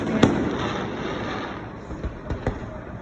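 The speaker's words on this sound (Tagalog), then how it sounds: "Fireworks at American Village here at Okinawa." Fireworks burst over American Village in Okinawa, a sharp distant bang followed by a low rumble and then a few more muffled pops spaced out near the end.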